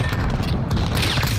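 Shotgun blasts and dense gunfire in the first-person shooter Modern Warfare during a Search and Destroy match, a loud continuous barrage of booming shots with mechanical clatter, no speech.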